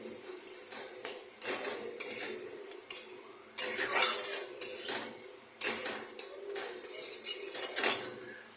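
Metal spoon scraping and clinking against a pan while upma mixture with curd and a sugar-free tablet is stirred, in irregular bursts of scraping strokes with short pauses, close and fairly loud, no talking.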